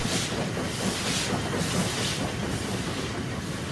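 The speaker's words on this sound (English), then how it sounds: "Trains leave Fenchurch Street under a covered way." Steady rumble of a train rolling along tracks out of London's Fenchurch Street under a covered way, a continuous broadband roar with faint rhythmic clatter, no voices.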